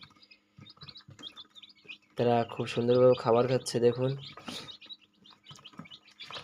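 Quail chicks in a brooder give faint, high, scattered chirps throughout, partly under someone talking in the middle.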